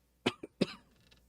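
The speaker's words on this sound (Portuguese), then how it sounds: "Eu tô com esse pigarro há tempos e vou resolver." A woman clears her throat with a few short, soft coughs close to the microphone during a pause in a podcast, three quick rasping bursts then quiet.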